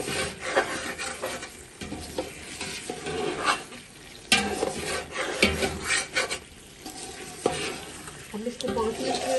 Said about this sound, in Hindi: अब मैं इसको 5 मिनट चम्मच चलाऊँगी